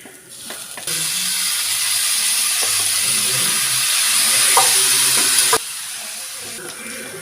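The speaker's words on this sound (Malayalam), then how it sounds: "ഇനി നമുക്ക് വേവിച്ച് വെച്ച് ബീഫ് ഇട്ട് കൊടുക്കാം." Boiled beef goes into a hot frying pan for Kerala toddy-shop style beef fry, bursting into a loud, steady hiss of sizzling that carries on for several seconds with faint stirring clinks, then cuts down abruptly to a quieter fry.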